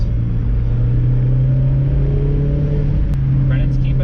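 A Mazda MX-5 roadster driven fast along a twisting country road through a forest, its engine holding a loud, steady drone with a single sharp click near the end.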